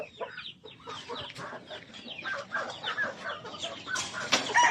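A young rooster stag in a backyard chicken pen crows and clucks repeatedly, close and fairly loud, with other fowl clucking around it.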